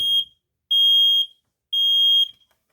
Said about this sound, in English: Next one we got is a Family Guard FG200